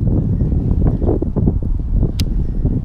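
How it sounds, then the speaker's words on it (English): Strong wind gusting over an outdoor fishing spot, a loud rumbling buffet of wind noise against the microphone, continuous and close, with a brief sharp tick near the end. "this wind is really kicking up"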